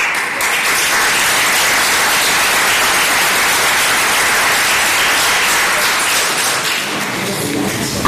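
Sustained applause of encouragement from an audience at a formal Italian gathering, greeting the newly elected mayor of Lauria; dense, steady clapping fills the whole stretch at even loudness, easing slightly near the end.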